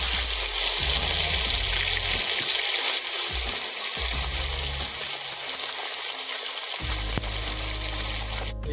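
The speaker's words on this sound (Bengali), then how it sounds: "এবারে এই কুঁচো মাছগুলো দিয়ে দেবো ভাজার জন্য" Small fish frying in oil over a camp cooking fire outdoors, with a close, continuous bubbling sizzle and crackle that holds steady throughout, with no voices over it.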